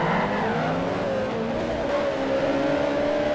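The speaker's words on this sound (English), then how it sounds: "Listen to these cars when they get started." Race cars in Forza Motorsport 4 roaring off the start together, engines revving up with rising pitch and a brief tire squeal, loud and continuous with no talk.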